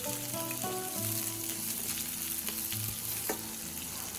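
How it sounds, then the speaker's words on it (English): Chopped onion sizzling in hot oil in a pan, a steady loud frying crackle with occasional stirring scrapes throughout. "Add a little oil to a hot pan, then add the chopped onion and sauté until it becomes soft and fragrant."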